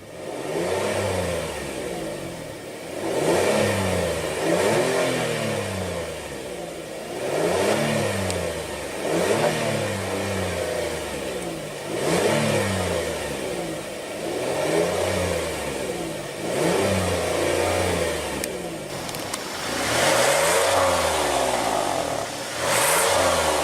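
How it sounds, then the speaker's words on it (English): A 2016 Kia Sorento's engine is revved again and again. It rises and falls in repeated loud swells, each climbing in pitch and then settling back toward idle, heard close up with no talking. "let's go ahead and rev it up"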